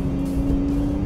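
A 2018 Porsche 911 GT2 RS pulls hard at speed, its engine a steady loud drone with a constant tonal hum throughout, no voices present.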